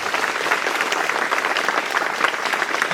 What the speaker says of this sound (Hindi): जोरदार तालियां बजा देंगे।